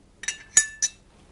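Metal cutlery, a knife, fork and teaspoon, clinking together in three short bright chinks spaced evenly apart, close and crisp against a silent background.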